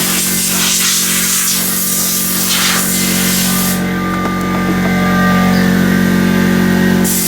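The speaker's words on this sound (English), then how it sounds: "we're going to spray this." A loud, steady hiss of spraying Temp Coat 101 ceramic insulation coating runs over a constant mechanical hum, growing brighter and harsher partway through.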